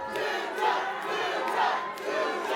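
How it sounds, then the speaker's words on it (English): A wrestling crowd at a Juggalo Championship Wrestling event chants in unison, a loud rhythmic roar of many voices swelling and dipping across a few seconds. "Crowd is chanting for Tony."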